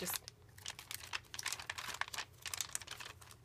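Art journal pages crinkling and crackling as they are handled and flipped, a close, continuous rustle of dense crisp paper texture with no speech.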